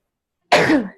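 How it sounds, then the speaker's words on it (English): A man sneezes once, a single abrupt burst that starts sharply and trails off within half a second, close and fairly loud after silence. "I'm going to sneeze."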